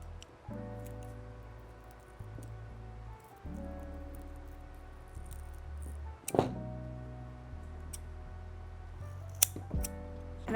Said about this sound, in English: That's gonna help me as I make the choices to cut it apart.